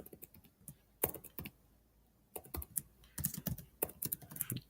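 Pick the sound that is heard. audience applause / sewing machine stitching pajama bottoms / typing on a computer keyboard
typing on a computer keyboard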